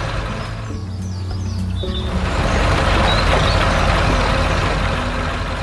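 A red truck with big tyres working in a green rice field on an animated farm, its engine roaring as a steady, loud drone that builds and holds throughout, with a brief air-brake-like hiss early on.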